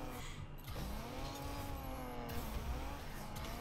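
A car in Rocket League, the video game, boosts and power-slides, giving a steady engine whine with a sliding hiss that holds at a constant level for a few seconds with no talk.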